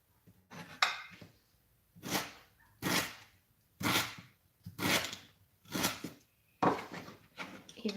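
A knife chops garlic and ginger into fine pieces on a chopping board while making Thai green curry chicken, about eight sharp, evenly spaced chops close up with short pauses between them.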